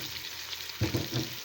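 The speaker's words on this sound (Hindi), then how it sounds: "बीफ और लौकी को हम तकरीबन 6 से 7 मिनट अच्छी तरह से भून लेंगे।" Beef and bottle gourd fry in a pot, a brief soft sizzle with a louder stirring scrape near the end.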